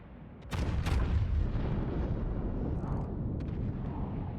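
Warship turret salvos fire in World of Warships, a sharp pair of heavy booms near the start, then a sustained rumbling roar with scattered later cracks of distant gunfire.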